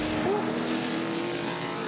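2012 Touring Car Masters race cars at Bathurst at the end of Conrod Straight, held on the rev limiter: a loud, steady, buzzing engine drone with a faint whining tone, continuous throughout.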